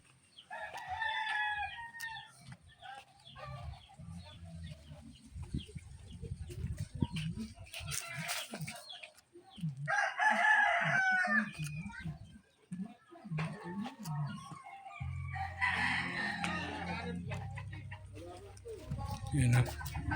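A rooster crows outdoors a few times, with short harmonic calls carrying over a background of voices, footsteps and low rustling.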